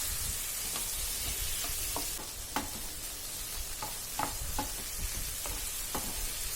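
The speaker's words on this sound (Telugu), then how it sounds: "ఇప్పుడు దీనిలో ముందుగా కట్ చేసి పెట్టుకున్న టమోటో ముక్కలను కూడా వేసి ఫ్రై చేసుకోవాలి." Chopped tomato pieces frying in a pan, a steady soft sizzle broken by scattered clicks and scrapes of stirring, close and moderately quiet, with no voices.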